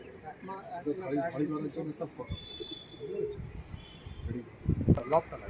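Young pigeons coo softly in short, repeated bursts at close range, mixed with light flutters, while someone talks over them.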